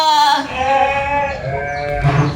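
Garut sheep on a breeding farm bleat loudly and close by, one long wavering call running almost without pause, a second bleat rising near the end over low farmyard rumble.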